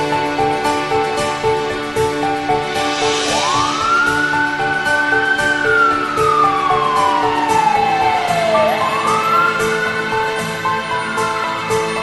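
A fire engine siren wails loudly and continuously as the truck responds to a burning salon, its tone sweeping up and down in long glides over a constant rumble of traffic, no talking.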